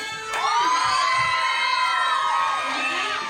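A crowd of children cheers and shouts together in a loud, sustained burst of high voices at an Easter children's church service, holding strong for about three seconds before easing slightly.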